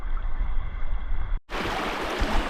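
A creek waterfall gives a steady broadband rush of flowing water that cuts out abruptly for a moment and then resumes, close and continuous, with no voices.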